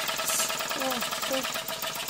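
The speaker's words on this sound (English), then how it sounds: "Donkey engine. I think we're just losing too much steam pressure in the mix." An old steam donkey engine chugging slowly while losing steam pressure, a steady mechanical running rhythm with faint whistling tones over it.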